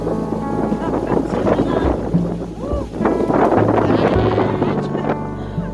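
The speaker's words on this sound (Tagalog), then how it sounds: "Kusog ang hangin." Strong wind on the Sault Ste. Marie bridge buffets the microphone in a loud, continuous roar with gusting rumble, and voices can be heard faintly under it.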